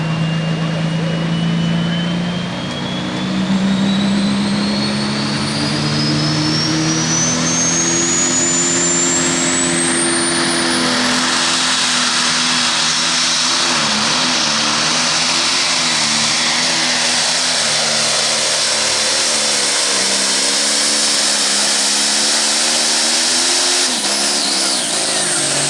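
A diesel pulling tractor in the 8,500 lb class at a Hillsboro, Wisconsin tractor pull roars loudly and continuously, its pitch whining steadily upward as it charges down the track.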